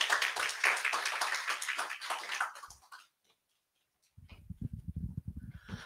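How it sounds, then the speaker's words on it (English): Applause from an audience at an entrepreneurs' event, a dense patter of clapping that fades to silence before a voice begins speaking. "Round of applause for Sanja, please."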